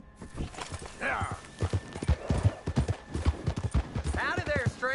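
In a video game, rhythmic hoof clip-clops of a horse plod steadily under ongoing talk, with a brief whinny-like cry near the start and end.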